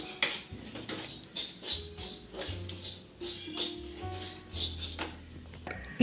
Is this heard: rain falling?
no